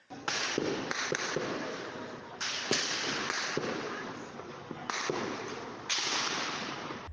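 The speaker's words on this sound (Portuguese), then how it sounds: "A troca de tiros começou após a invasão de traficantes rivais na favela Nova Holanda." Nighttime gunfire exchange in the Maré favela in Rio de Janeiro, with bursts of sharp cracking shots in clustered volleys separated by brief pauses, heard from a distance with a hissy, reverberant background.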